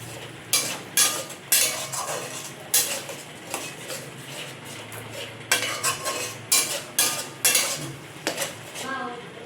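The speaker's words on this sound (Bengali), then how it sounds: "এই যে অল্প অল্প করে দুধ দেব, এই প্রথমবার যে দুধটা বার করেছিলাম ওইটাই দিয়ে এই পেঁয়াজটাকে আমি কষবো।" Onions cooking in milk in a hot pan are stirred briskly, with repeated metallic scrapes and clanks of a utensil against the pan in an uneven rhythm over a soft, steady sizzle, close and loud, with no talk.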